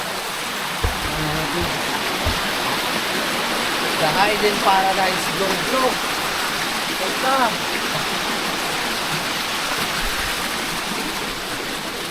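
Water flows steadily at a hidden lagoon in Montalban, Rizal, a loud, continuous rush like a stream or small waterfall, with voices talking over it.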